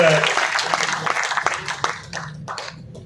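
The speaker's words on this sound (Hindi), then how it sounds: "उन सभी साथियों का एक बार जोरदार ताली बजा करके आप लोग सबका स्वागत कर दीजिए" Audience at a national party convention hall in Mumbai breaking into applause to welcome organisers, with dense clapping that fades gradually while someone speaks over a public address system.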